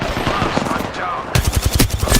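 Heavy automatic gunfire in Apex Legends, fast repeated close shots that grow louder and denser halfway through, with some game voice audible beneath the bursts.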